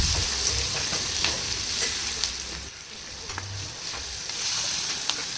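Spices are tempered in hot oil for a horse gram sambar, making a continuous close sizzle and crackle with a few stirring clicks, no voices.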